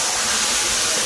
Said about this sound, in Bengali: মশলাটা হয়ে গিয়েছে, আর তরকারিটা ঢেলে দিচ্ছি।